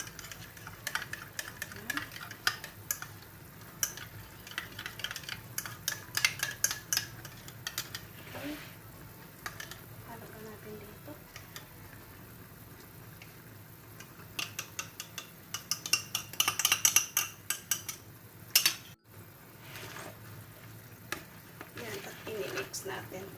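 A salad tossed in a bowl in a home kitchen: irregular clinks and scrapes of a utensil against the bowl, faint overall, with small rustling mixes and a louder clatter near the end.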